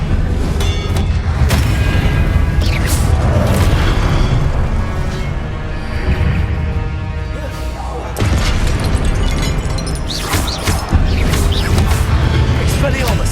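Booming spell blasts, Confringo and Incendio, in the PS5 video game Hogwarts Legacy, loud bursts and crashes over a dense busy game soundscape with a voice calling out at times.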